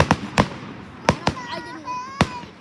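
Fireworks at a show, five sharp bangs going off at irregular intervals, fairly close, with children's voices talking between the blasts.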